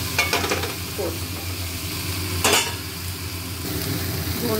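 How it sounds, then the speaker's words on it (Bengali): Fried potatoes are stirred into a spice masala in a pan, giving a steady sizzle with scraping spoon strokes and a sharp metallic clink partway through. "আলু ভেজে রেখেছি, এটা এবারে আলু দিয়ে কষবো।"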